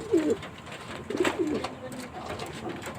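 Older pigeons in a loft giving soft, low coos in short bursts, heard close by, along with light rustling and movement.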